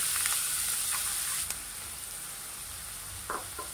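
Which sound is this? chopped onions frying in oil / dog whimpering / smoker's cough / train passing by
chopped onions frying in oil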